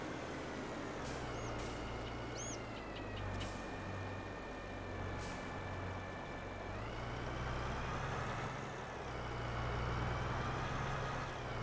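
A farm truck in Farming Simulator 22 runs with a steady low engine drone and a few short higher tones over it, and the engine note shifts partway through.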